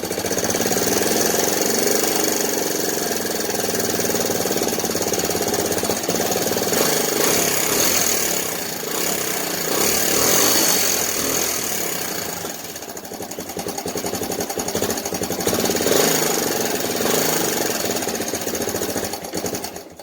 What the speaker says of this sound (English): I love the noise of this kickstart.